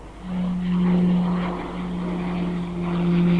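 Tucano propeller aircraft performing a five-point roll at the RIAT airshow, a steady droning engine with a sustained low hum that swells and dips as it passes at moderate distance, no talk.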